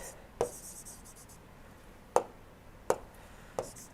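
Chalk or marker strokes on a board during a lecture, four short, sharp taps and scrapes spaced irregularly over a quiet room, faint and close.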